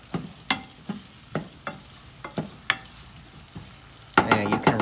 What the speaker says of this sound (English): We're gonna go ahead and give that a stir.